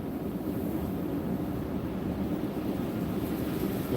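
Strong wind gusts in a Pacific Northwest snowstorm batter the microphone in a steady, loud, close roar that holds unbroken from start to finish.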